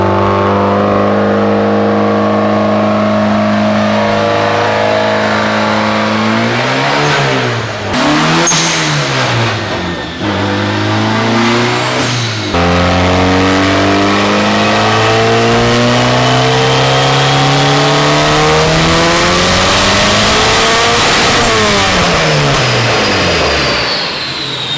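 A BMW E36 with a swapped turbocharged VW 1.8T engine revs repeatedly, climbing and falling in pitch through several sharp blips before holding a long rising pull, close and loud.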